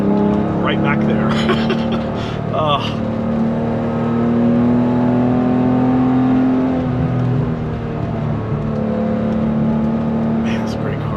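A 1988 BMW E28 M5 drives along with a steady, loud engine drone that rises slightly in pitch and holds, while a person talks over it.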